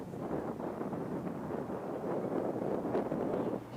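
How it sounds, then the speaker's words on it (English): Wind buffets a field-side effects microphone at a rugby match in Palmerston North, a close, continuous rumbling gust noise that stays fairly even across the few seconds, with no talk. "You can hear that wind through the effects microphone there in Palmerston North, so it is a windy day."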